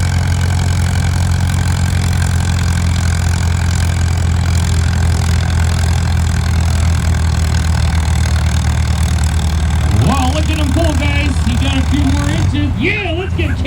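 A tractor's heavy engine rumbles steadily and loudly throughout as it pulls a weighted sled down a track at a show, with voices rising over it toward the end.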